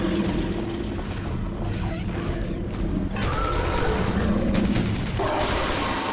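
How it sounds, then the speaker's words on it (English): Sustained heavy machine gun fire in the Stalker shooter game, a dense continuous roar of rapid shots with mechanical clatter running loud throughout, briefly easing near the middle before resuming. "that's 100 rounds of HMG"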